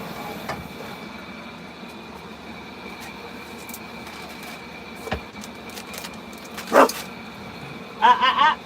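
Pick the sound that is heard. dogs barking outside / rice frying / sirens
dogs barking outside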